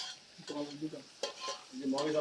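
Faint sizzling of marinated meat frying in a wok, with soft stirring scrapes and a few brief clinks, at a picnic.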